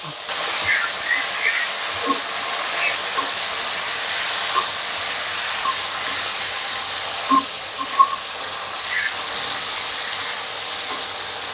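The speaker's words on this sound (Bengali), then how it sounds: "প্রথমে তেলের মধ্যে ছাড়ার পরে একটু ফুটলো, তারপরে দেখুন এভাবে ভেজে নিচ্ছি" Okra frying in hot oil with dried red chillies sizzles with a steady, loud, hissing crackle, broken by a few scattered pops and small clinks of stirring.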